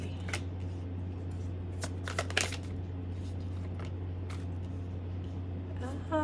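Tarot cards being shuffled and drawn, giving soft flicking riffles and a few quick card snaps over a steady low hum.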